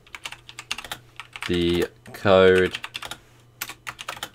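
Rapid keyboard clicks from typing on a computer keyboard, in short bursts interrupted by two brief spoken words.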